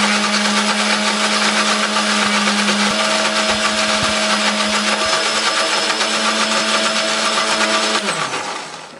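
A blender grinds garlic, turmeric, chili and candlenut into a spice paste, a loud steady motor whine running for about eight seconds before spinning down at the end.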